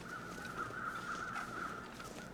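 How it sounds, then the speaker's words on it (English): Crows cawing in the video game The Long Dark, somewhere along a foggy road: distant, faint caws over a steady, unbroken ambient tone, with no talking. "I think those might be different crows."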